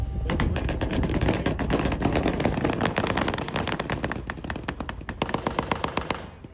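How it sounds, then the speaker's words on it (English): Rapid bursts of automatic gunfire during a military raid, with dense overlapping shots rattling continuously and loudly for several seconds, some individual cracks standing out near the end. "You hear a lot of gunfire, and this goes on for a minute."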